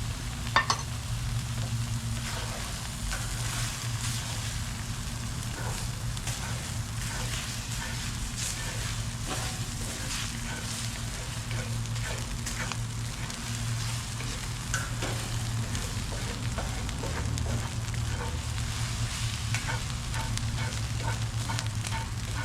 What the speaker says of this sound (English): let us add our eggs, and these are gonna cook pretty quick